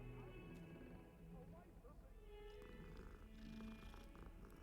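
A petted cat purrs in the Hogwarts Legacy video game, a soft steady rumble running beneath game music and ambient sounds, with someone talking over part of it.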